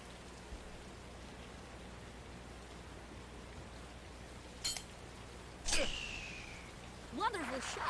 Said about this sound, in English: Yeah, now we've got rain.